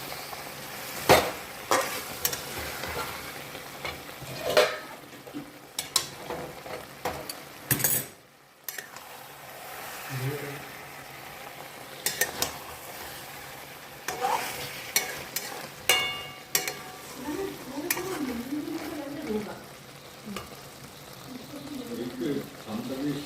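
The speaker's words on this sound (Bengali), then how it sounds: "এখানে কষছি মাটনটা, এখনও আর একটু কষতে হবে" Mutton stir-fried in a pan at home, giving a steady low sizzle with scraping and stirring clatter of a spatula against the pan, and a brief pause partway through.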